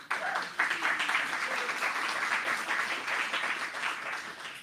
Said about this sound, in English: That deserves like a round of applause